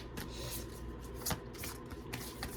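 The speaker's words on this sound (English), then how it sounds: "I'm going to reshuffle that, because I didn't even get to shuffle." Tarot cards are shuffled close by, a steady riffling flutter with a few sharper snaps, no talking.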